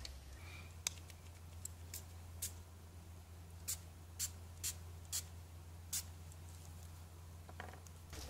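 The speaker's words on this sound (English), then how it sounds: "I'm going to want to have this left section sprayed and then this section sprayed." Short bursts of spray mist a section of a floral craft card, about eight quiet hissing puffs spaced irregularly over a faint steady background hum.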